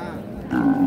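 A cow lowing at a busy cattle market where dairy cows are bought and sold, one sustained low moo rising in the second half of the short moment, close and fairly loud over faint crowd murmur.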